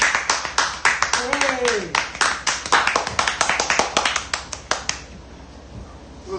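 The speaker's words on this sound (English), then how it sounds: "Polite applause for Daniel Webster." A small live-stream audience gives polite applause for a guest named Daniel Webster: a rapid, uneven patter of claps, close and crisp, with a voice calling out briefly before the clapping thins and stops near the end.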